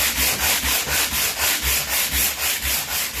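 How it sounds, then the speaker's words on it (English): Sandpaper is drawn back and forth along the grain of a wooden piece to strip an old finish, making about a dozen loud, evenly spaced rasping strokes up close. "with the grain of the wood, we're just going to start sanding off this finish"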